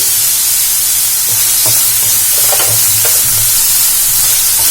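Onion, tomato and capsicum sauté in a pan for a bun masala filling, a steady sizzle and hiss with a few soft scraping stirs, close and loud, no talk.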